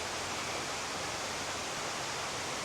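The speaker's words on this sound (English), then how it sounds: "River, brook, stream?" A small river on a river walk, its flowing water a steady, dense rushing wash that stays even throughout with no other sounds or voices.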